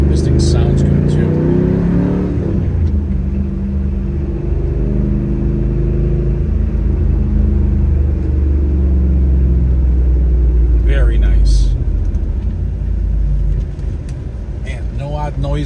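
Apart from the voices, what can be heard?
1997 Pontiac Trans Am WS6 engine while driving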